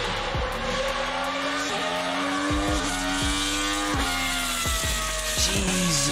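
A BMW 1 Series tuned to rev to 12,000 RPM screams loud and close, its shrill high-revving engine rising and falling through repeated sharp throttle blips with a race-car, Formula One-like wail.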